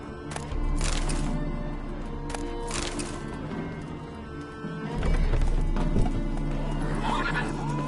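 Roach the horse galloping in The Witcher video game, with steady clip-clop hoofbeats and loud whinnies throughout, sustained and up close.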